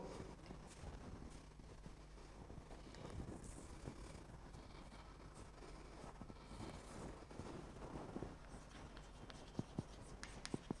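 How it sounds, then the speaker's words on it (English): Marker or chalk writing on a board during a maths lecture, faint scratchy strokes under steady room hiss, with no talking. "Let me write the second example here."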